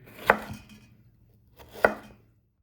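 Two sharp knife chops on a cutting board through tomatoes, about a second and a half apart, close and fairly quiet with faint background hum.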